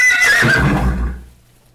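A young horse in early halter training in the Pyrenees gives a loud, close neigh, a quivering whinny that rises and then falls away over a second or two.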